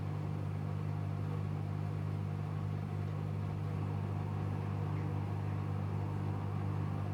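Bosch Serie 8 WAYH8790GB washing machine on a cotton 60° SpeedPerfect cycle, drum spinning with a steady, loud low hum and rumble held throughout, no voices.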